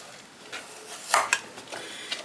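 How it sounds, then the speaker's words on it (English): Knife cutting carrots on a cutting board, a few crisp chopping knocks and clicks spaced irregularly, with one pair of louder close strikes in the middle, quiet and without talk. "We're going to cut it down the middle,"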